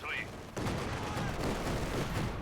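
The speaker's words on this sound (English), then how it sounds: "And mortar continuing to barrage." Mortar barrage in Company of Heroes 2 battle, a dense continuous rumble of distant explosions and gunfire layered together, steady and loud throughout, with no talk.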